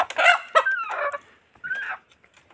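Hen being held in hand on a local poultry farm, clucking and squawking in several short agitated bursts, near and fairly loud, with brief pauses between calls.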